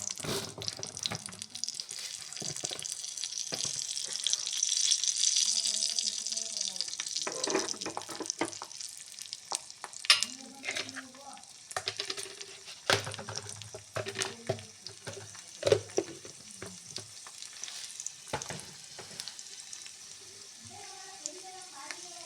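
Mustard seeds, garlic, dried red chili pieces and urad dal frying in a little oil for a tempering, giving a steady hissing sizzle with bursts of crackle and stirring clatter, while a voice talks intermittently over it.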